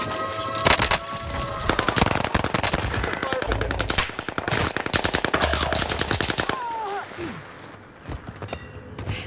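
Rapid automatic gunfire in Call of Duty Warzone on Rebirth Island, dense bursts of shots crackling close and loud through most of the stretch, with game voices and effects mixed in before a quieter tail.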